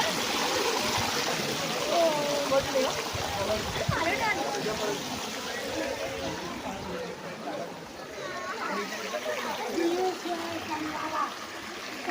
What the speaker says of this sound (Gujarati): ખૂબ સરસ પાણીનો અવિરત પ્રવાહ અહીં